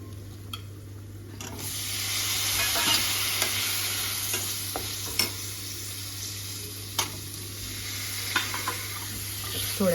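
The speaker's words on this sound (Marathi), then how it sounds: "थोडी ठेवली ती फ्राय करून घेते" Food fries in a pan in a home kitchen, giving a continuous close sizzle with intermittent stirring scrapes and a few sharp clinks. A low steady hum sits underneath, and no one talks.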